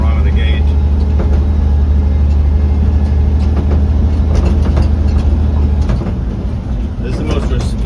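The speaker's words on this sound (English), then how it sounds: "This is the most responsive this throttle has ever been." A 1956 International S-160 4x4 truck engine runs with a loud, deep rumble, revving and easing back down, while someone talks over it close by.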